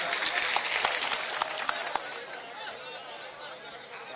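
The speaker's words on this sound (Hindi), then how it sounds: "साथियों सभी तालियां बजाकर स्वागत करिएगा।" Crowd at an outdoor political rally in Shahpur, Madhya Pradesh applauds with scattered sharp claps and crowd babble, fading in the later part, while a voice speaks over a PA.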